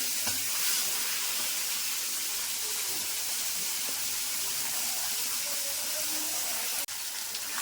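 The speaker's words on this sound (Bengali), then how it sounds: "এখানে যে মাথাগুলো আছে, মাথাগুলো দিয়ে দেবো। একটা একটা করে ভাজতে হবে, দুটো করে হবে না।" Fish heads frying one at a time in a pan of hot oil for a Bengali fish curry with cauliflower, giving a steady, close, loud sizzle and hiss that runs unbroken with no talking.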